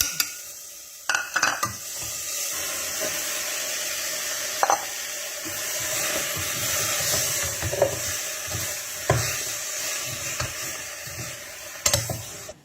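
Thai curry paste is stir-fried in a hot pan, with a steady sizzle throughout, broken by repeated scraping strokes of a spatula against the metal.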